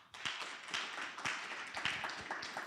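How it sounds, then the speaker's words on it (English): Applause at the Inventor's Forum 2025, a fairly thin crowd clapping with distinct, slightly uneven claps that carry on steadily at moderate volume. "A round of applause,"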